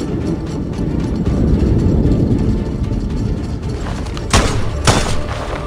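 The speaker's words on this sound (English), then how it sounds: "Gunshots." Two sharp gunshots crack in quick succession near the end, standing out over a steady clattering, mechanical background noise.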